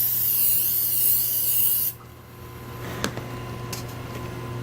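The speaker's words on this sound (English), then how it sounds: "Spray both sides." Aerosol glue hisses from a spray can onto seat foam, a loud steady burst that cuts off abruptly partway through, leaving quiet room noise and a few small knocks.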